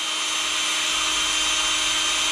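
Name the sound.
power drill drilling a hole into a ring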